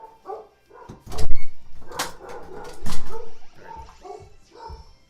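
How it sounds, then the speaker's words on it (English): Several dogs bark in short, loud bursts near a Pokémon Steel gym battle, with yips and whimpers between the barks and a few quiet gaps. "Ignore the dogs."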